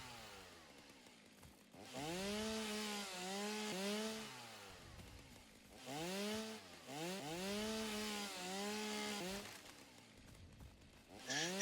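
A chainsaw in the video game Satisfactory cuts down trees in two bursts, each a rising, wavering engine whine that holds for a few seconds and then dies away, with quiet gaps between the bursts.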